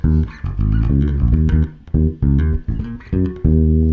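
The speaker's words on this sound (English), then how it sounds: "there's this lick that the bass plays along with the horns" Bass guitar plays a punchy, rhythmic pre-chorus lick, a string of short, plucked low notes in choppy groups with brief gaps between, loud and close with no voices.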